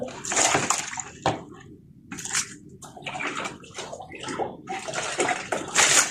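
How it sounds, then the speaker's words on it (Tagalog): Water splashes and sloshes into a basin for hand-washing laundry at home, in irregular bursts of pouring with brief gaps, close and fairly loud, while voices talk intermittently nearby. "Maglalagay ng tubig."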